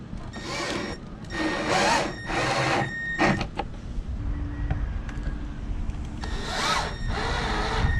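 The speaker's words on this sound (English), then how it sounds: "Drill a little bit more." A power drill drives screws in several short bursts while installing a sailboat's main hatch weatherboard, then a longer run near the end, with brief clicks and handling noise between.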